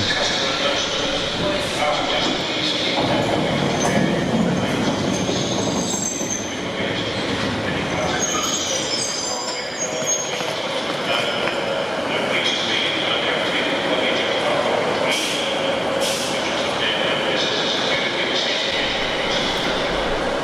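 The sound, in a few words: train at station platform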